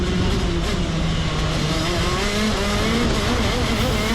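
A racing kart on a new chassis laps the track at Forest Edge, its engine a loud, close, continuous drone whose pitch rises and falls through the corners, with no talking.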